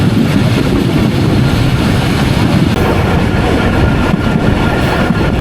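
Steady, loud rumble and rattle of the Dhalarchar Express intercity train on the Pabna to Rajshahi line, a continuous close roar of wheels and carriages with no voices.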